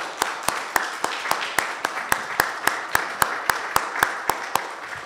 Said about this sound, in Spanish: le vamos a tener que dar un aplauso para que partamos bien y parta bien su negocio con esta nueva patente